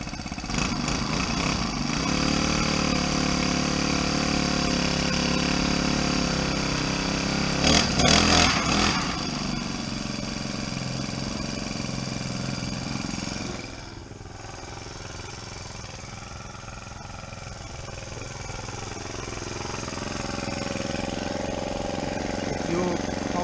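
Gas-powered post driver engine runs loud and close, a steady buzzing drone with a brief sputter midway that settles lower, while people talk over it on a farm.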